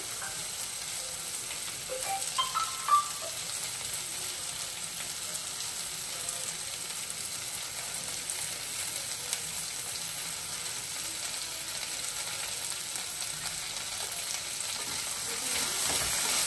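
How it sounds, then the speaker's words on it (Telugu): Okra frying in a pan for pulihora gives a steady, quiet sizzle broken by occasional scraping and stirring sounds from a spoon, close by and with no talking. "అప్పుడప్పుడు మధ్య మధ్యలో ఇలా వేయించుకుంటూ ఉండాలి"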